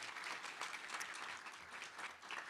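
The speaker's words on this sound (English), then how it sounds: "A round of applause." An audience at an academic tribute gathering applauds in a dense, even wash of clapping that holds steady throughout, fairly soft and heard from within the hall.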